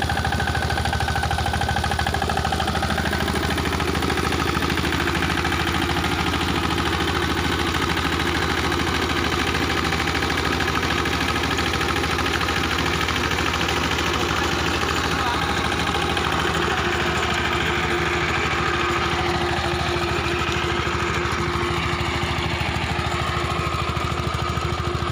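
An Apollo mini tractor, 2.5 feet wide, runs between cotton furrows 3.5 feet apart, its small engine droning steadily and evenly at close range for the whole stretch without pause.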